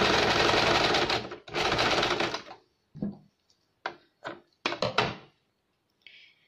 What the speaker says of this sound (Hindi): दो बार सिलाई लेंगे।